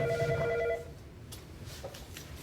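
A phone rings with a short electronic tone burst that stops after under a second, leaving a quiet room with faint background noise.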